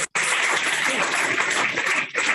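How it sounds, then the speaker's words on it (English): Students at a school training session applauding a classmate, a burst of dense clapping that starts abruptly after a brief silence and continues steadily before tapering slightly near the end. "A round of applause for Navya."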